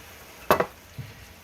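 Diced mushrooms, about three cups, tipped into a slow-cooker cowboy country casserole: one soft clattering tumble into the pot, then a faint second thud, with no talk.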